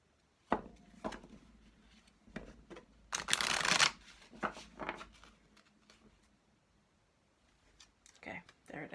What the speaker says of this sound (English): I always shuffle until I feel that stop